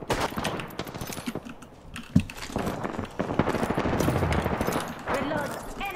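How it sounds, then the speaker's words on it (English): Rapid automatic gunfire in the battle royale shooter Apex Legends, dense crackling volleys running almost without pause, with a single sharper bang partway through and a voice talking over the shooting. "The enemies are shooting at me"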